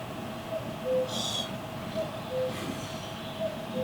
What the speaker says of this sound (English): I said that cuckoo is very angry.